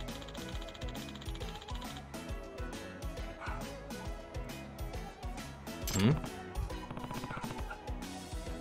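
A dog barks in short bursts in the background of a game playing on a PS5, the barks mixed in with game music and sound effects.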